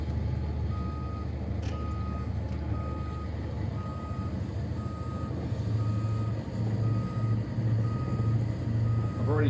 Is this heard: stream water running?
no